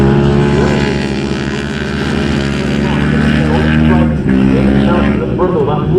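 Loud, droning engines of Minitwin race cars running in close company on a circuit, a steady roar with shifting pitch as they pass, under continuous excited race commentary.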